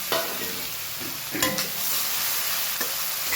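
Cumin seeds fry in a few spoonfuls of hot oil, a steady close sizzle broken by brief stirring clatters and spoon taps on the pan.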